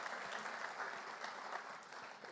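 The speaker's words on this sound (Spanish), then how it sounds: "Te volvemos a dar un aplauso" Audience applause at an evening lecture on gender ideology and the family, a steady dense wash of many hands clapping at moderate distance, even and unbroken for the whole stretch with no voices over it.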